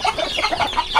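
Several chickens cluck in quick, overlapping bursts close by, a busy continuous chatter of a flock.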